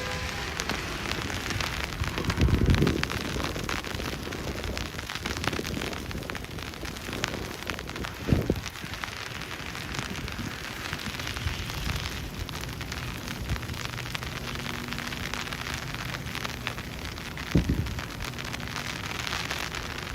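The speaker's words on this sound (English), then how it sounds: "No, it's sleeting." Sleet pattering steadily onto a Midtown Manhattan street during a heavy snowstorm, a dense, even hiss of icy pellets near and fairly loud, broken by a few dull thuds.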